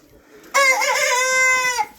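A young rooster crows once, loud and close, a long drawn-out call lasting over a second against a quiet background.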